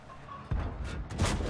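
Artillery fire in the tank battle game World of Tanks: a booming impact lands midway, followed by rumbling blasts and crackling explosions, loud with no talk.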